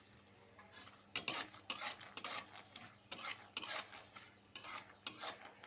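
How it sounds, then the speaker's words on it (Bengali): Peanuts dry-roast in a pan while a spoon stirs them, making repeated scraping, rattling bursts in an uneven rhythm, close and fairly quiet. "বাদামটা ভাজা হয়ে যাচ্ছে অলরেডি।"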